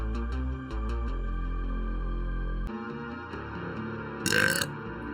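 A loud, drawn-out burp from a streamer, low and rumbling for a couple of seconds with a sharper burst near the end, alone over faint background sound.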